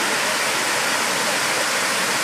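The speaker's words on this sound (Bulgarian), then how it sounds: "В момента ще покажем един от най-добрите водопади тук, който съм виждал." Waterfall of clear mountain water at the Rila Lakes, a steady, loud, unbroken rushing roar close by that holds at full strength throughout.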